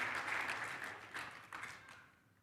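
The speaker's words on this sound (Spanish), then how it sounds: "démosle un fuerte aplauso al Señor de señores, a aquel que hace posible todas las cosas" A church congregation applauds during an anniversary celebration service, a dense wash of clapping that swells, eases, and flares again in short bursts before tapering off.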